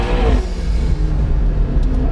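A McLaren 650S engine pulls hard out of a corner, a loud, close, continuous roar with rising tone that holds steady for a couple of seconds, no voices over it.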